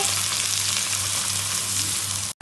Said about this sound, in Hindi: तो हम लोग सॉफ्ट होने तक फ्राई कर लेंगे